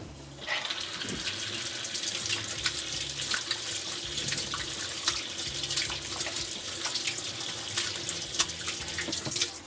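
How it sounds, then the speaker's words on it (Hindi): A kitchen tap runs steadily for hands being washed under it, with a continuous hiss of splashing water and small irregular spatters against the sink, and no talk. "हाथ पहले धो लेते हैं।"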